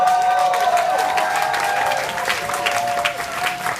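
Audience clapping with some cheering during a game at a corporate dinner and dance, dense and steady throughout, with a tonal whistle-like line running beneath it.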